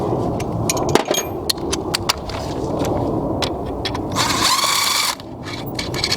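A power tool removes nuts on a Toyota 2JZ engine during timing belt and water pump work, with scattered metallic clicks and taps, then a buzzy whir of about a second near the end.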